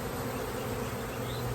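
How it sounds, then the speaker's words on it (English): Hundreds of honey bees swarm around a hive as a nuc colony is installed. Their dense, steady buzzing drones close by without a break, and no voices are heard. "There are literally, like my son would say, hundreds of bees flying in front of my face right now."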